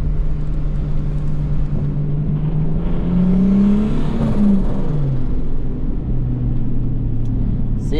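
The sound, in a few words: car driving without a bumper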